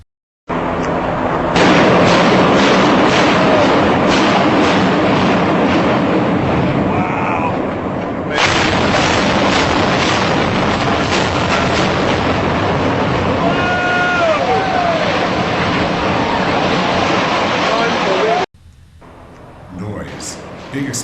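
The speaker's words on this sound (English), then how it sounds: "Here is a classic controlled demolition." A controlled building demolition sets off a rapid barrage of loud blasts at the base, followed by a long, roaring rumble of the collapse that cuts off abruptly, with a faint voice afterward.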